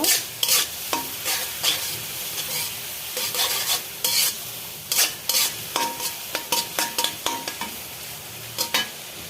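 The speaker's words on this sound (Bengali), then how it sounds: "এক টেবিল চামচ আদা এবং এক টেবিল চামচ রসুন কুচি দেওয়া হয়েছে একটু ভেজে নিব" Chopped ginger and garlic frying in oil in a pan, a steady close sizzle broken by frequent sharp scraping and clinking strokes of a spatula against the pan, with no talking.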